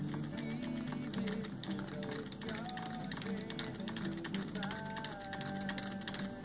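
Keys on a prototype PS/2 keyboard are pressed in a rapid stream of close clicks over steady electronic humming and shifting tones, with no talking.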